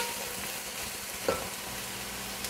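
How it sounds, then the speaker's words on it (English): Onion frying in oil for chicken biryani, a dense, even sizzle held close throughout with a brief stirring knock midway, no voices. "you need to fry it until the onion is brown, golden brown color"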